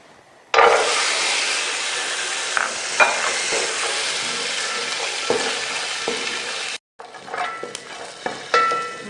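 Almonds frying in hot oil for Kabuli Pulao give a steady, loud sizzle with scattered stirring scrapes, briefly cut off near the end before resuming.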